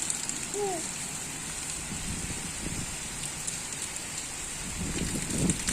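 Heavy rain pours steadily during a cyclone, a constant broadband hiss of drops on surfaces lasting throughout, with faint voices and brief knocks underneath and a slight rise in intensity toward the end.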